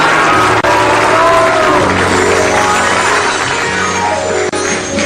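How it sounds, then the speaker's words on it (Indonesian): Studio audience of the AKSI 2015 religious talent competition applauds contestant Hari Purwokerto, a loud sustained roar of clapping and cheering crowd over background music. "Tepuk tangan sekali lagi untuk Hari Purwokerto."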